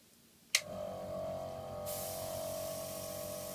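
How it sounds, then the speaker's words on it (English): An airbrush compressor starts with a sharp click and then runs steadily with a close, even hiss and hum, ready for light coats of enamel weathering on an Aile Strike Gundam model kit. "Let me get the compressor on"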